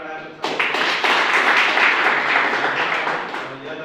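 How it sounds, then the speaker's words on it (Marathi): An audience at a training-certificate event gives loud, sustained applause that swells suddenly and holds as a dense wash of clapping, with some voices mixed in before it slowly tapers. "तर सगळ्यांना एकदा जोरदार टाळ्या"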